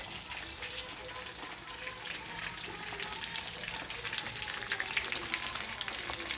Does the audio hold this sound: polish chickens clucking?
no